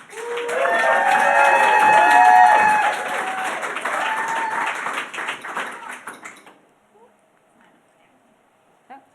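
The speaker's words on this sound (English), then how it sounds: "give a big warm welcome, round of applause to Evie" Applause and cheering from a Pint of Science talk audience welcoming a speaker, loud and dense at first with voices mixed in, then thinning into scattered claps and fading out.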